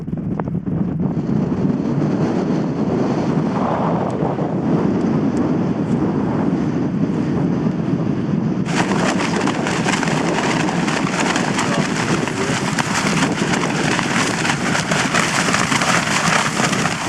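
Strong wind roars across a mountain summit in the Lake District near Helvellyn, a steady loud buffeting on the microphone that grows even harsher and fuller partway through, with no talking.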